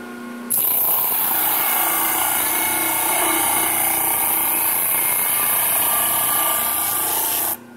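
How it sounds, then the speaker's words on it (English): An 80 grit disc sander grinds down epoxy-coated boat scrap in a workshop, a loud, steady high-pitched whir and abrasive hiss starting abruptly and running unbroken for about seven seconds before cutting off. "we've got our Gary the Snail disc sander up and running"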